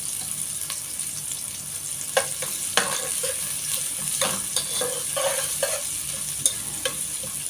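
Onions stirred while frying in a pan for bitter gourd, a steady sizzle under scraping spoon strokes that strike in irregular bursts, close and moderately loud, with no talking.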